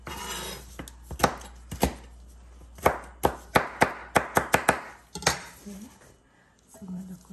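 Rapid knife chops on a cutting board while preparing a salmon poke bowl, a quick run of sharp knocks with short pauses between bursts, close and crisp.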